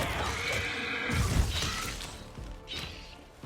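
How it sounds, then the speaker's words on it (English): A horse in the fantasy role-playing game Pathfinder: Wrath of the Righteous gives a loud, shrill whinny up close, followed by a crashing impact and clattering hooves, with no speech. "It's just a horse."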